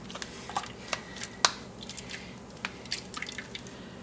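Second coconut milk squeezed by hand for broken wheat payasam, quiet squishy pressing with scattered drips falling into a bowl, close and soft with no talking.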